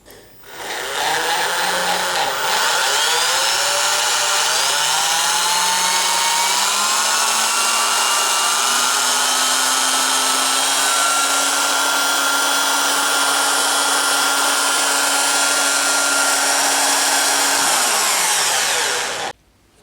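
A solar-panel electric motorcycle charger switches on with a loud, steady electrical whine and hum whose tone glides upward and then holds, running alone for about eighteen seconds before cutting off abruptly.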